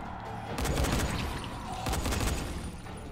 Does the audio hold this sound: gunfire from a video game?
yes